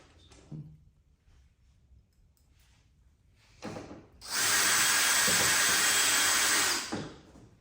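A power drill drives screws while a cat door is installed, with a brief trigger pull followed by a loud, steady whine for about two and a half seconds before it stops.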